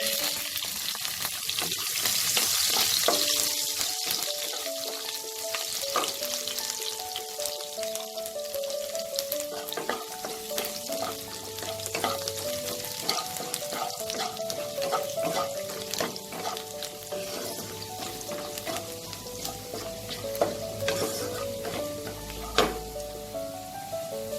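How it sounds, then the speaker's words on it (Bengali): Chopped garlic fries in oil with nigella seeds for Bengali-style water spinach, giving a steady, close sizzle with crackling pops that lasts throughout, with no talking. "কালো জিরেটা থেকে ভাজা ভাজা গন্ধ বেরোলে আমি রসুন কুচিটা দিয়ে দেবো।"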